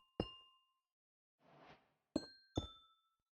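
Phantom glass blocks placed in a Minecraft modpack ring out as bright glassy clinks, three sharp chimes with a short crunchy placement rustle between them, isolated and faint.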